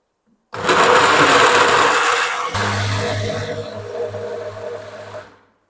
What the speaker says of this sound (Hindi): चल जल्दी से ना हम इसको ब्लेंड कर लेते हैं चावलों को।